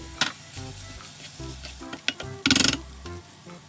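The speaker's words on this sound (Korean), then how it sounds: "중불로 야채를 해동시키면서 볶아줍니다" Frozen vegetables and ham stir-fry in oil in a frying pan over medium heat, with a close, steady sizzle, scattered stirring scrapes and a brief louder hiss near the end.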